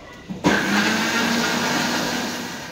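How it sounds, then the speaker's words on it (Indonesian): Kitchen blender grinding shallots, garlic, a little bird's eye chili and ginger, switching on after a short click and then whirring loudly and steadily close by, slowly easing off, with no voices. "Ayo kita blender yuk."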